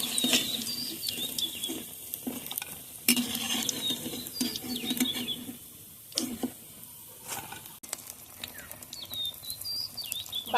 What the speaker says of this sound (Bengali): বাকিগুলো আমি এভাবে ভেজে নেব।